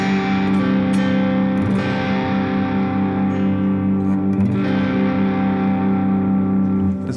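A sustained chord on a heavily distorted electric guitar with an added fourth note, ringing loud and thick with effects-laden reverb and echo, a few string scrapes near the start.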